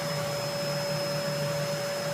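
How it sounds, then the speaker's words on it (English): A vacuum cleaner runs steadily against a person's hair, its motor whining in a constant loud drone with a high tonal hum and no break, no talk over it. "Did I mention the vacuum's not really working that well right now?"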